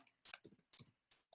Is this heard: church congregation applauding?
no